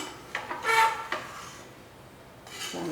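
A spoon scrapes and clinks against a metal pot while chicken gravy with curry leaves and coriander is stirred, a few quiet scraping strokes followed by a soft pause.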